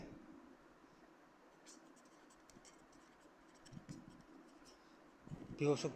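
Soft scratching of writing on a board while working through a kinetic and potential energy physics problem, faint and intermittent, ending in a louder clatter, with quiet talking in the room.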